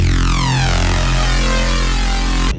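Neuro drum and bass Reese bass built from two detuned Reese patches FM-modulating each other with LFO movement and stacked OTT compression: a dense, gritty, harmonically rich growl held loud and continuous, then cut off sharply.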